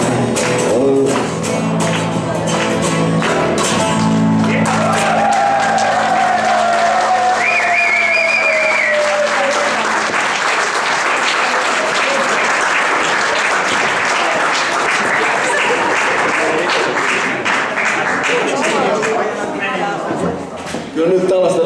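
A concert audience applauds in a dense, sustained wash of clapping that swells and continues for many seconds, loud and close, with fading music and some voices underneath at first.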